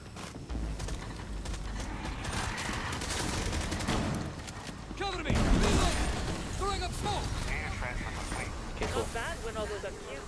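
Video game gunfire during an online extraction shooter match, bursts of rapid shots and mechanical clatter of weapons mixing with players talking over each other throughout.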